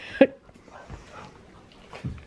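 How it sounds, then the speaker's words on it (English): An 8-week-old Great Dane puppy gives a sharp yip near the start, then softer whimpers and a low bark near the end, heard close up with no talking. "Little puppy."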